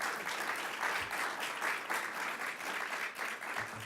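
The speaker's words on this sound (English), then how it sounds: "I wonder if you will join me in giving these women a round of applause" An audience at a women's environmental justice panel claps steadily for several seconds, a dense, even wash of applause at moderate volume with no voices over it.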